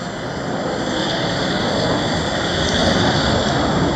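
A Eurofighter Typhoon's two Eurojet EJ200 turbofan engines roar with afterburners lit at the Duxford air show, a loud, sustained thundering rumble that swells slightly toward the end.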